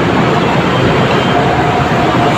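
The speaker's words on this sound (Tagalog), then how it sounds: "Sakay na tayo ng LRT" A light rail LRT train heading for Monumento at rush hour, its loud continuous rumble and rolling rail noise steady throughout, heard up close from on board or at the platform with no voices.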